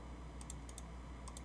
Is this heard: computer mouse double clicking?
yes